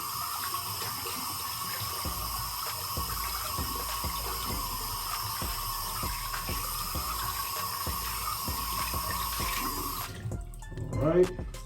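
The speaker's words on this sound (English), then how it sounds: "Just gonna wash my hands real quick." Tap water runs steadily into a sink for about ten seconds while hands are washed under it, close and fairly loud, then the flow cuts off and a few soft handling sounds follow.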